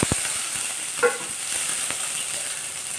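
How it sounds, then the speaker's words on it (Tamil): Mustard seeds and urad dal sizzle in hot oil with a quiet, steady hiss broken by a few faint pops and crackles. "இதில் நம்ம இந்த கடுகு உளுந்து பருப்பு போட்டு தாளிச்சிடணும்."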